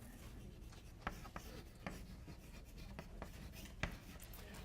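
Chalk or marker strokes on a classroom board, quiet scratchy writing with short taps and scrapes in an irregular rhythm, heard alone at low level.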